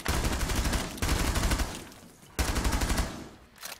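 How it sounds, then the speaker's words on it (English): Sustained rapid automatic gunfire in the tactical shooter game Rainbow Six Siege, two loud continuous bursts separated by a brief gap, close and dominant. "I shot him in the face as well."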